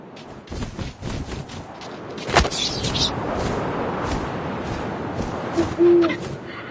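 In the video game What Remains of Edith Finch, an owl gives a single short hoot near the end, rising over a rustling, windy outdoor ambience.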